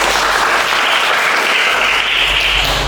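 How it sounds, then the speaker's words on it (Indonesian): Dense, continuous applause from a classroom group, loud and close, with a steady clapping wash filling the whole moment and no voices standing out. "tepuk tangan dulu"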